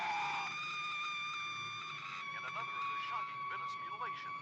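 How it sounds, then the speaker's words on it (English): A woman's high, sustained scream in the horror film Spawn of the Slithis flows into a wavering police car siren at the same pitch, the siren's rising and falling wail repeating. "The monster disappears, but then a woman screams. It then cuts to a police car with a siren going"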